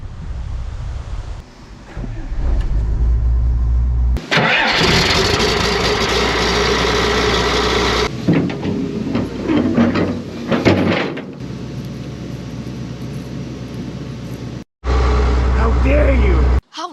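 A 1966 car's engine runs with a worn H-pipe exhaust, a steady low rumble holding loud through most of the stretch, with a brief dropout and shifting hiss over it.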